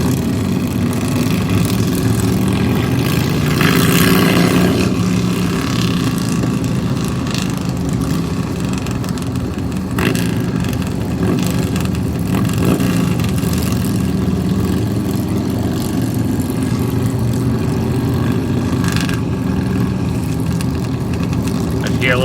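Several motorcycles idle and rumble together at a charity benefit ride, a steady low engine drone with occasional revs, while people talk over it throughout.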